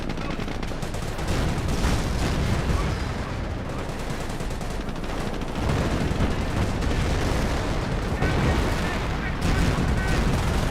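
Mortar half-track barrage in Company of Heroes, a World War II strategy game: a dense, continuous din of booming impacts and rattling gunfire, loud and unbroken for the whole stretch.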